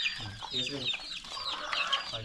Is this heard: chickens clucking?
yes